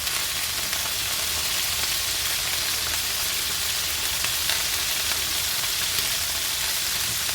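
Food sizzles steadily in cold pressed rapeseed oil in a pan, a loud, even, continuous frying hiss with no talk.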